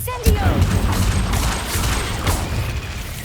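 A fire spell cast in Hogwarts Legacy, a loud whooshing burst with a sharp crackling onset near the start, then roaring, rumbling flame and clatter that sustains for a few seconds.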